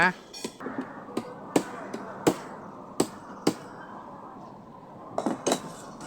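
Hammer strikes on the blade lock pin of a Hatari 16-inch HT 7774 electric fan that won't spin: about eight sharp, close metallic taps at irregular intervals, with a low murmur of talk underneath.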